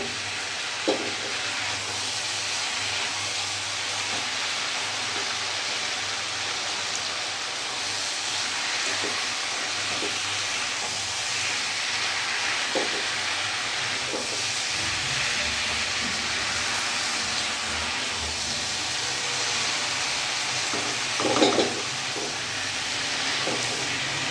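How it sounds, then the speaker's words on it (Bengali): Labra mixed-vegetable curry is stir-fried over a full gas flame, a steady broad sizzle and hiss with occasional faint scrapes of the spatula, moderately close and without talking. "আমার গ্যাসের ফ্লেমটা কিন্তু ফুল আছে আমি ভালো করে নাড়াচাড়া দিয়ে একটু কষিয়ে নেবো"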